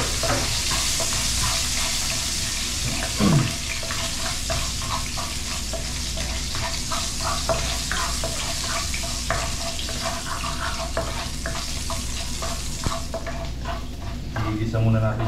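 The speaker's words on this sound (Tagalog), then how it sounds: "mag-isa na po tayo. Bawang sibuyas lang po yung gamitin natin." Garlic and onion sautéing in a pan, a loud continuous sizzle close up, with scattered stirring clicks and a brief clatter near the end.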